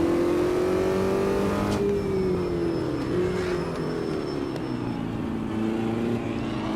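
Race car engine in Automobilista 2 at Monaco, a loud continuous drone whose pitch rises and dips as it revs through corners, heard alone without voices.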